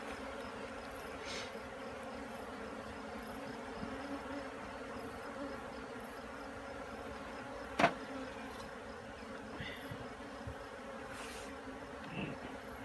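Honeybees buzz around a hive being split: a soft, continuous hum of many insects with a few individual bees passing close, plus a sharp click midway and faint handling noises.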